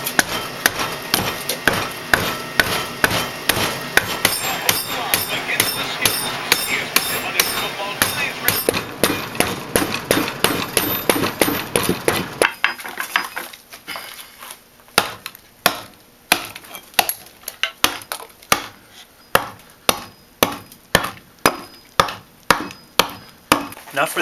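A bowl adze chops into maple wood to carve out a bowl, with steady, sharp, close strikes coming quickly and densely at first, then slowing into spaced, loud individual chops.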